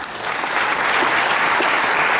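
An audience applauding at a tribute concert for the Cursed Soldiers, dense steady clapping that swells in and holds loud throughout.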